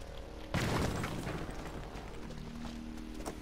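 A single heavy gunshot blast in the video game Not A Hero, sudden and loud, then tailing off into quieter in-game clatter and low background noise.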